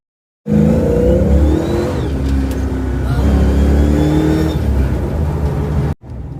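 A Foxbody Mustang with V-band exhaust clamps accelerating hard, a loud close engine roar rising steadily in pitch for several seconds before cutting off abruptly, with no talk over it.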